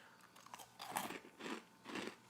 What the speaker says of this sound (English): Very crunchy. There's like no give to them.